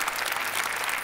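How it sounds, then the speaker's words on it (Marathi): Steady, dense audience applause from a Marathi comedy show's studio crowd, loud and continuous throughout with no voices over it. "जोरदार टाळ्या त्यांच्यासाठी."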